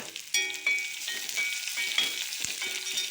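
Sliced onions sautéing in a hot pan for a moru curry, a close, bright sizzle broken by several sharp stirring scrapes and clicks, with no voices.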